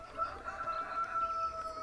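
Chickens in the Farming Simulator video game cluck softly and steadily, with a faint sustained tonal hum running underneath.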